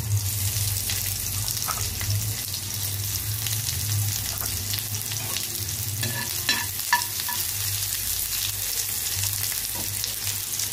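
Onions sizzling in a small amount of hot oil for a long-bean and mustard-seed dish, a steady loud frying hiss with occasional stirring scrapes and a low hum underneath, no talking.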